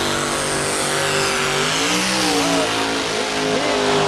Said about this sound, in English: who knew that you'd ever want to put a big Detroit engine in a puller? But it pulls good